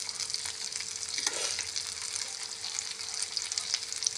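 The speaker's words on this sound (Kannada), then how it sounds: "ಎಲ್ಲ ಮೀನು ಹಾಕಿದ ಮೇಲೆ ಸ್ವಲ್ಪ ಅದ್ರ ಮೇಲ್ಗಡೆ ಎಣ್ಣೆ ಹಾಕಬೇಕು." Fish frying in coconut oil on a tawa, a soft, steady sizzle with light crackles and faint stirring scrapes throughout, no voices.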